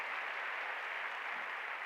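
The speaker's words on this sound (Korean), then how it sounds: "박수 치라." A church congregation at a weekday worship service claps hands together in a steady, even wash of applause, faint and distant.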